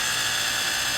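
A piece of tool steel, centered in a drill chuck and spun against a bench grinder, gives a loud, steady, close high-pitched grinding whine that holds unbroken throughout, with no talking.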